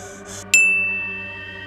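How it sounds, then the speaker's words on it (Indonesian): A mobile phone notification chime: one bright, clear ding that rings out and slowly fades, after a brief soft hiss, with no talking. "HP-nya berbunyi."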